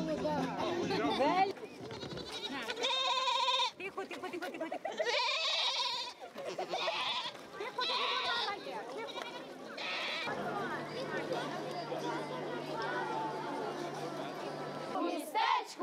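Goats bleat repeatedly at a goat beauty parade in a small Ukrainian town, their wavering cries rising over a chattering crowd and people talking nearby throughout.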